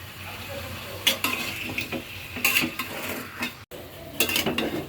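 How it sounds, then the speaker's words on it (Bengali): Meat frying in ghee in a pot, with a Peshawari-style dish in progress: a close sizzle broken by repeated metal spoon scrapes and clanks against the pan, in several bursts with one brief pause. "ঘিয়ের সাথে মাংসটা কিছুক্ষণ ভেজে নিয়েছি।"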